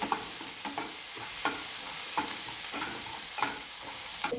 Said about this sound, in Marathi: एक चमचा आलं लसूण पेस्ट घेतलेली आहे ते टाकून घेणार आहोत छान परतून घेणार आहोत